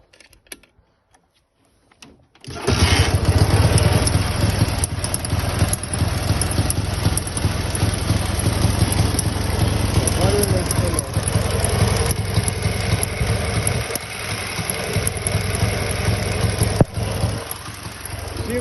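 A Dnepr motorcycle engine, its ignition just replaced, fires after a couple of seconds of quiet and then runs steadily at a loud, close, rough idle without a break.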